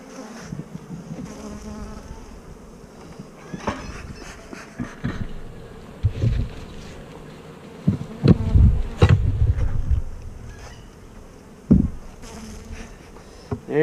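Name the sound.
bees buzzing around hive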